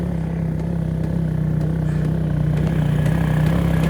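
A cheap quad bike with a worn wheel runs steadily as it moves, its engine giving a loud, close, continuous drone with a low hum throughout.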